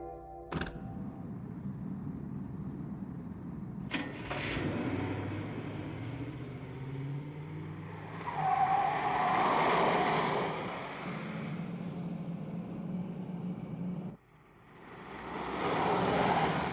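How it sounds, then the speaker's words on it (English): A vehicle approaches in a Captain Scarlet scene, a droning engine that swells louder over several seconds, drops away, then rises again, with a couple of sharp clicks early on. "Look, there's a car coming towards us."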